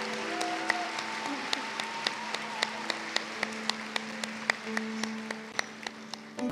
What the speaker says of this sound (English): And a round of applause for our Porter Campus Practical Nursing graduates.